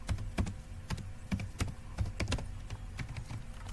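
Someone types on a computer keyboard in quick, uneven bursts of close clicking keystrokes, with no talking during the stretch.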